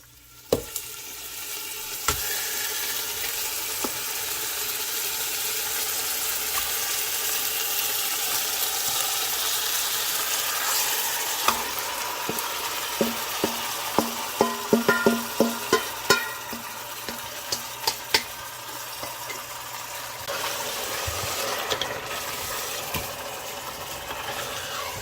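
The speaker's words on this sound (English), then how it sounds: "Now I'm gonna add the chicken." Chicken pieces fry in a hot pan for an Azorean-style chicken, potato and carrot dish. A steady crackling sizzle runs throughout, punctuated by sharp clinks and scrapes of stirring, with a low background hum underneath.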